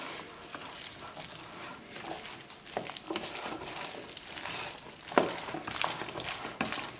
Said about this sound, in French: Et on mélange toute la préparation.